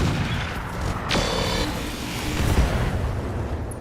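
Heavy weapons fire and explosions tear apart a mine turret in the mech combat game RogueTech: a dense, continuous rumble of gunfire with sharp blasts landing about a second in and again near two and a half seconds, loud throughout.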